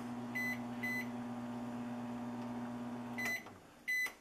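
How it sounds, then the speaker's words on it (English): A microwave oven runs on an off-grid solar power system with a steady electric hum, then its door beeps in short bright tones several times before it shuts off and beeps once more near the end. "Now we got the microwave if we need it."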